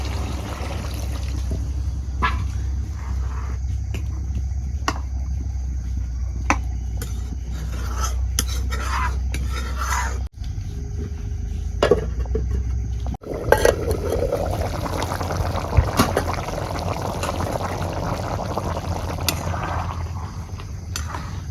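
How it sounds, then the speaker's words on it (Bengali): Water poured into broiler chicken curry cooking on a clay stove, with intermittent clinks and trickling at first, then a steady, fuller pour and sizzle continuing to the end, close by. "এখন আমি ঝোলের পানি দিয়ে দিব।"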